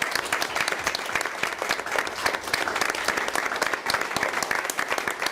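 Steady, dense applause from a congregation honoring brother Marcelo at a church discipleship gathering, continuous and fairly even for several seconds with no speech over it.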